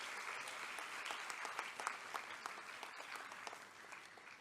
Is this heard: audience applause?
yes